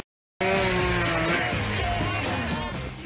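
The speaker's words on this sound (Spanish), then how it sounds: "¿Tú qué preparado vienes que te has traído hasta la motosierra?" A chainsaw cutting firewood starts abruptly after a brief silence, then runs loud and close with a steady, rough engine roar that wavers slightly as it cuts.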